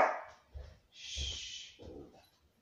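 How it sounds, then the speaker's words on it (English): A dog barks close by, a few separate yips and barks with short whiny pauses between them, no talking. "my dog, it keeps barking"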